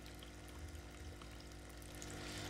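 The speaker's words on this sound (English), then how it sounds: "The left wall is lined with churning tanks of water." Churning water tanks lining the wall of a bait shop in Kentucky Route Zero, heard as a steady, continuous rushing and pouring of agitated water with a low hum beneath, alone and fairly faint.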